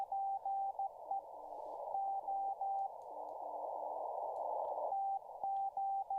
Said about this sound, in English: It says ES a whole bunch. It means and in Morse code language.